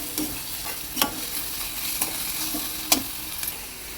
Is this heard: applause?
no